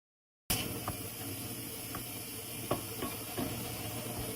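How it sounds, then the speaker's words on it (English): Seasoned ground turkey browns in a skillet, giving a steady close sizzle and hiss with a few faint clicks and pops, and no talking. "Start by browning your ground turkey in a skillet and be sure to season the meat"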